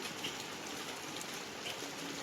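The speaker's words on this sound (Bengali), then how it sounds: "প্রচণ্ড বৃষ্টি হচ্ছে" Heavy monsoon rain pours steadily outdoors near a school, a dense, even hiss that stays at one level throughout with no speech.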